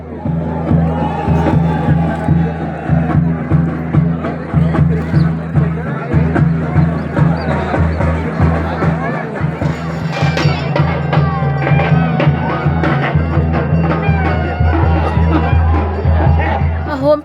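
Dense, loud crowd noise at a village Shimga festival, with a constant roar of babble and shouting voices close around that carries on without a break.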